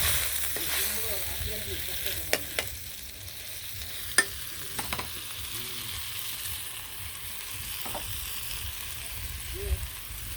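Vegetables frying in a pan for a home-cooked dish, a steady soft sizzle running throughout with a few faint clinks and stirring scrapes, some low background murmur of speech beneath.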